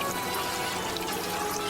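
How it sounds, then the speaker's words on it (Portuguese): Water sprays from a leaking aquarium hose in the film Final Destination 2, a steady hissing spray with no breaks and no voices. "rola um vazamento de água na mangueira do aquário que espirra direto na tomada"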